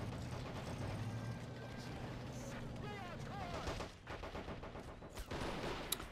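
Machine gun fire rattles amid a battle in a World War II strategy video game, with gunfire and booming artillery blending into a dense, continuous din, and a voice apparently talking underneath.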